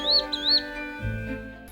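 Birds chirp outside a house in short, high repeated calls, a few rising whistles near the start, then fading under a low indoor hum and rumble.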